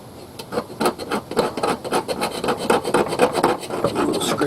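A Victorinox Pioneer knife edge scrapes fatwood in quick, rhythmic rasping strokes, close and fairly loud, with no talking.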